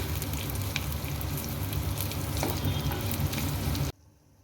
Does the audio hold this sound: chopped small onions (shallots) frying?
yes